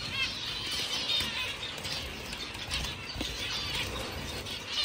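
A zebra finch flaps its wings in rapid, fluttering bursts while a hand catches it inside a cage, close and fairly quiet with no talking.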